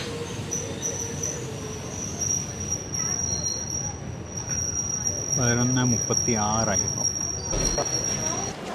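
A MEMU train departs Payyanur station, rumbling on the rails with a high sustained wheel squeal and a brief burst of sharper screeching midway, heard from on board, with a voice speaking briefly.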